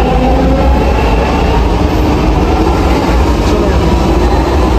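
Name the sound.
Bangalore metro train departing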